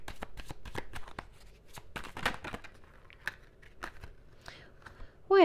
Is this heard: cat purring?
no